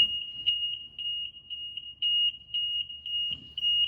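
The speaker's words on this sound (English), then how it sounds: "we're going to turn over the CO monitor on. It's going to run through a self-check. It's going to beep for about 15 seconds." A carbon monoxide monitor on an SCBA air compressor and bottle cascade system beeps during its self-check: a steady, piercing electronic tone pulsing in quick regular beats, loud and close over a faint low rumble.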